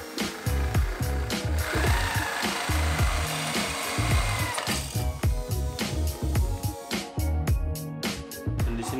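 A power drill bores holes through a motorcycle fender in a workshop, a steady, close, grinding whir broken into rough repeated bursts as the bit bites into the material.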